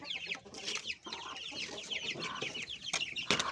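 A young hen, just started laying, clucks repeatedly up close amid other chickens, with a busy farmyard chorus of overlapping clucks and squawks throughout.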